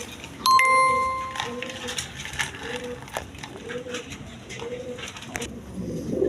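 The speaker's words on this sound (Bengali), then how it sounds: "এখানে এক পেয়ার রেশার কাশ্মীরি রেশার কবুতর আছে" A pair of Kashmiri racer pigeons coo in a repeating, low, rolling pattern nearby, with a brief bright chime near the start and light background noise.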